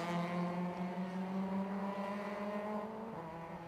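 Race cars lap the Anglesey Coastal circuit during trackday championship qualifying, an engine note droning steadily with shifting harmonic pitch as a car passes at moderate distance, with no talk over it.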